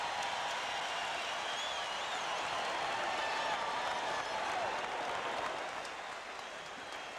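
A basketball arena crowd cheers and applauds after a spectacular play in an NBA game, a dense sustained roar of clapping that holds steady before easing slightly at the end.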